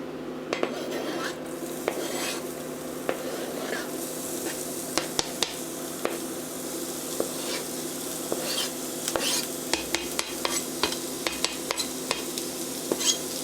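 Onions sautéing in a pan: a constant low sizzle broken by frequent sharp clicks and taps of a utensil against the cookware, close and steady throughout.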